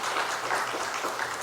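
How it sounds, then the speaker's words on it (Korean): Church congregation applauding, a brief, steady burst of many hands clapping together at moderate loudness. "우리 영상부 한번 박수 한번 쳐주세요."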